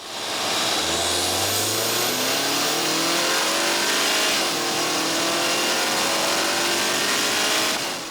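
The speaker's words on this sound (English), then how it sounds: "you do get that VTEC snarl overlaid with a turbocharged soundtrack" A turbocharged 2022 Acura TLX engine revs hard and close with a VTEC snarl, its pitch climbing steadily through the gears with a loud, continuous mechanical roar and no voices.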